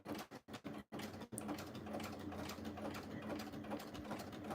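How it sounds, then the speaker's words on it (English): A sewing machine stitches fabric, starting with a few short stop-start bursts and then running in a steady, fast, close mechanical whir. "And then I'm gonna back stitch."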